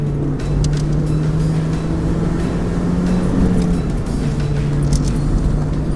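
Rear tires of an NB Mazda Miata hovering at the edge of grip through a decreasing-radius canyon road turn, a faint scrub under the steady loud engine drone and road roar, with no talk.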